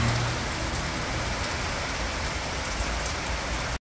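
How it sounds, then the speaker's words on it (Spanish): Steady heavy rain falls in Tampico during a cyclone alert, a dense, even hiss on surfaces with no voices, cutting off abruptly at the end. "Está lloviendo más."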